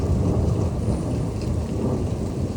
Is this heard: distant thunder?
yes